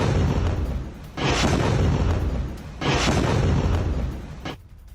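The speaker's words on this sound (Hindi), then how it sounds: "उत्तरी गाजा सिटी में रिहायशी इलाके पर बमबारी की एक और तस्वीर" Bombing strikes a residential area of northern Gaza City. Two heavy, rumbling blasts land about a second and a half apart, each with a long roaring tail, over constant background noise.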